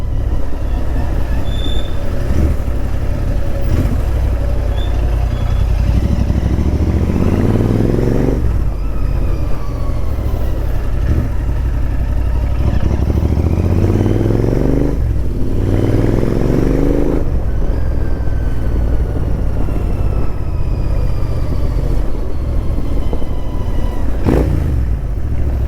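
Royal Enfield Interceptor 650 motorcycle exhaust on a night ride, a loud, continuous engine drone rising and falling through repeated gear changes, close and steady for the whole stretch.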